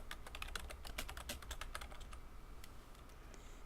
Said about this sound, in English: I'll type this one.